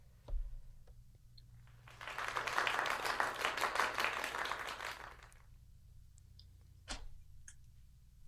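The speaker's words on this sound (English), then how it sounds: "Okay, you'll get a little round of applause." Small round of applause from an online improv class, a dense patter of claps that starts and swells for about three seconds, then stops, with a few isolated taps and clicks before and after.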